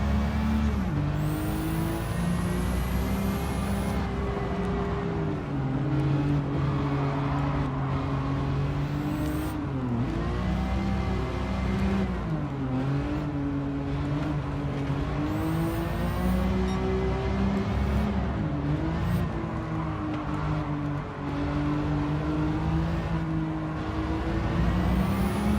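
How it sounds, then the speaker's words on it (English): Gran Turismo 7 car engines drone and rev continuously in VR on PS5, pitch climbing and dropping as gears shift, loud and steady with no talking. "Why does every car's engine sound so busted?"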